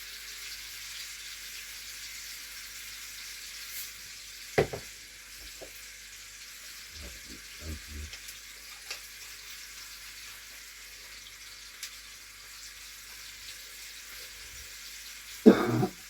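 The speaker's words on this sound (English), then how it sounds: "So that's what I'm going to prepare next while the meat is searing" Seasoned meatballs searing in a frying pan, a quiet, steady sizzle running throughout, broken by a few soft clinks and scrapes and a louder clatter near the end.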